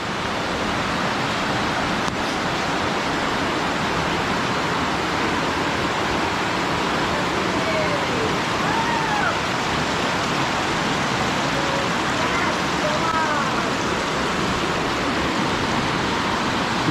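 Water flows steadily at a village dam, a loud, even rushing roar that fills the whole stretch without a break, with faint chirps briefly audible above it and no talking.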